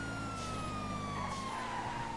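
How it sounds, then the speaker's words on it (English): Emergency vehicle siren blaring in the GTA FiveM driving game, a steady sliding electronic wail held loud throughout over a continuous engine rumble, no talk. "I'm not going to just have the siren on constantly for ages"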